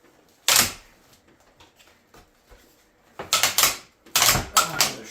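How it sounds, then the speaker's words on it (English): Ratchet joints on a large 3D printed Metroplex transformer toy, loud sharp clicking bursts, one early and then several clustered clicks later, with quiet handling in between. "Oh, they're strong ratchets."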